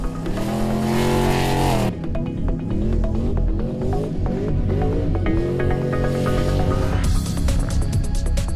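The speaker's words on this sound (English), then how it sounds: "We're here with our Moon Buggy racing at the Superior Engineering Short Course Challenge here in Queensland." Moon buggy race cars at a short course challenge in Queensland, engines loud and continuous, revving up and down in rising and falling pitch with a brief dip near two seconds, no talk.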